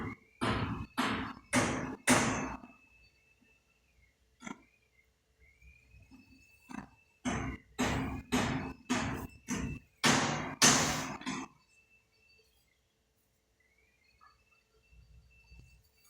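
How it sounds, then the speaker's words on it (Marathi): Hammering from construction work at a neighbouring home: sharp, loud blows in quick rhythmic bursts separated by pauses, with a faint thin tone drifting underneath and no talk. "शेजारी काम चालू आहे ना, त्यामुळे आवाज जास्त येतो."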